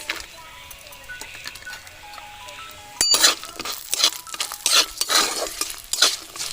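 Two bay leaves, whole garam masala, cashews and raisins go into a hot pan for potol pulao: a quiet start, then from midway a loud hiss of frying with stirring and light clinks of the spoon against the pan.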